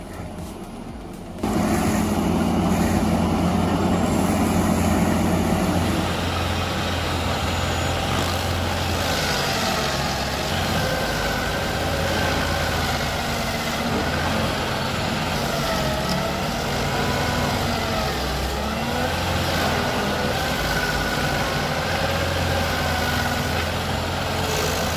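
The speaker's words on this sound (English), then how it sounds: "seeing a John Deere mulcher make light work of these trunks is pretty impressive" A John Deere mulcher with spinning teeth grinds through standing and fallen tree trunks, its heavy engine roaring loud and steady for the whole stretch, with a rise in grinding early on and no talking.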